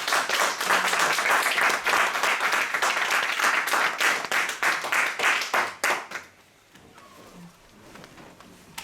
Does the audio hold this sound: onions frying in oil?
no